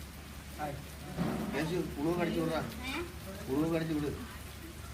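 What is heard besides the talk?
heavy rain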